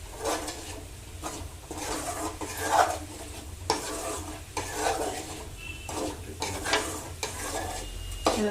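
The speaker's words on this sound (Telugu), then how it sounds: "ఇది వచ్చేసి బాగా ఫ్రై అవ్వాలి" Spices with a pinch of turmeric fry in a pan, sizzling softly while a utensil stirs and scrapes in irregular bursts, close and moderately quiet, with no talking.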